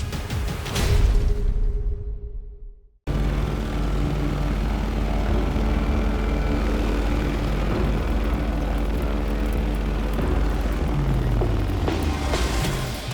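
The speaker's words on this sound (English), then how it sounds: "The pilot has lost control of this plane" Aircraft engine roaring steadily as a plane loses control before a crash, a loud sustained drone that cuts in sharply after a brief hush and holds for about ten seconds, with no voices.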